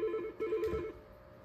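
A Yealink T53 desk phone rings with an incoming call, giving a short run of bright electronic warbling tones that stop partway through, heard close with no talking.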